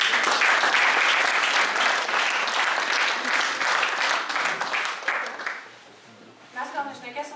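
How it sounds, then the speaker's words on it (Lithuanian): A gathering applauds its guests at a meeting, loud sustained clapping that gradually thins and fades, followed by a person speaking after it dies down. "Tai ir mūsų plojimai svečiams."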